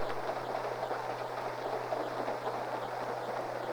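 A ski train bound for Winter Park rolls along the rails with a steady low rumble and a constant hum, moderately distant and unbroken, with no voices.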